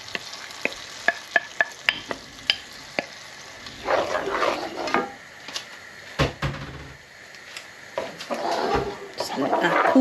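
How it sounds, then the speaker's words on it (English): Strained tomato sauce poured into a pan and cooking, with a wet splash and sizzle following a run of light tapping and scraping, while a person talks throughout. "I'm just going to pop the tomato sauce in that's been strained off."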